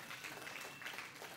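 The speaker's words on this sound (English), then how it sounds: "go ahead and give Jesus a hand clap on that" A church congregation claps together during a worship service, a dense, steady wash of applause that fills the room.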